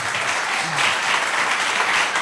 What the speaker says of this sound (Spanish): El aplauso es para los que organizaron, el aplauso es para los que actuaron